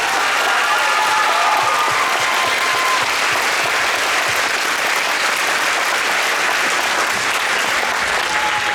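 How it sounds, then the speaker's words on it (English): A crowd at a middle school band winter concert claps steadily and loudly for first-year band students, a thick, even wash of applause lasting the whole stretch with no pause or speech. "Let's give those kids a round of applause"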